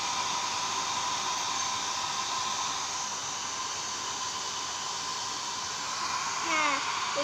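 A hair dryer blows steadily and fairly loudly to dry a cat's fur after its bath, a constant broadband whoosh with a faint squeaky sound near the end.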